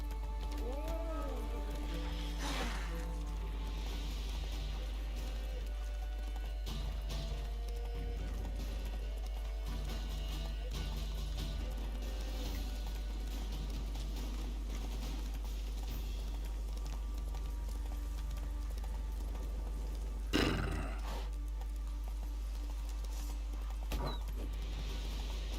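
Roach, the horse in Witcher 3, gallops with continuous rhythmic hoofbeats, moderately loud and steady under game music and ambience, with a brief louder impact later on.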